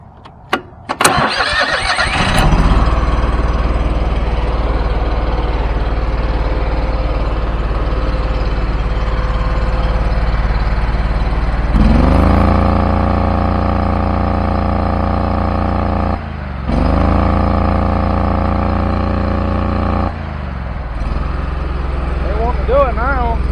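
A Kohler engine on a Ferris zero-turn mower with a faulty throttle and governor cranks and starts, then idles loudly and steadily nearby, its pitch rising and dropping a few times as someone talks over it.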